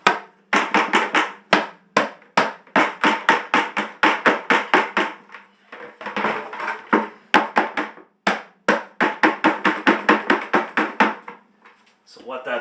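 A reusable performance air filter tapped out by hand to knock debris loose, giving many sharp, close hollow knocks in quick bursts with short pauses between them.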